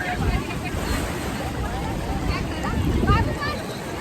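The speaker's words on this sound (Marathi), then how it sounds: "तर गाईज बघा इकडे किती मोठ्या मोठ्या लाटा" Sea waves roll and surge at Kashid Beach in Alibag, a broad rushing wash with wind noise and overlapping voices and babble throughout.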